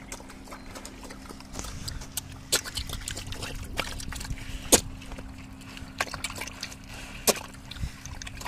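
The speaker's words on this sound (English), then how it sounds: "They just suck the water up." Pigs eat a watery feed, slurping and sucking up the liquid with wet sloppy sounds, broken by sharp clicks and knocks of snouts against the trough, close and continuous.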